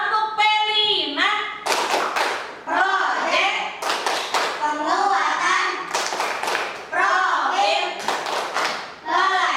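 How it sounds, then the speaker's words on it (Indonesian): Indonesian school class performs the rhythmic 'tepuk P5' clapping chant for the Pancasila student profile project: close, crisp bursts of hand claps in a set pattern, with children chanting and a teacher's voice leading in between. "mari kita tepuk P5 terlebih dahulu"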